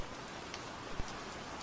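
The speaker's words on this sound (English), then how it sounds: "Insert 3 is where the rain is coming from, right here." Steady rain pattering on a surface, layered into a music production track as an ambient bed, continuous and even at moderate level with a few louder droplet ticks.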